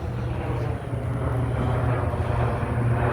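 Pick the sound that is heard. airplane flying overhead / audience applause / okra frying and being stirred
airplane flying overhead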